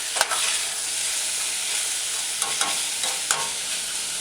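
Herbs and pepper sauté in a simmering stew pot, giving a dense, even sizzle with a few soft knocks as a spoon stirs them in.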